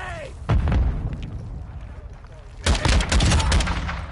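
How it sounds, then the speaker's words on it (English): Grenade explosions and gunfire in DMZ, a heavy boom followed by rumbling gunfire, then a second louder burst of blasts and rapid shots, close and intense, with someone talking. "Oh shit, they're relentless with these grenades too"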